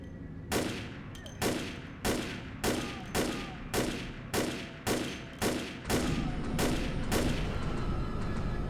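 Rifle fire in Vampire the Masquerade Bloodlines, a game played with a mod: about a dozen loud single shots at an even pace, each with a short booming tail, ending in a continuous roar.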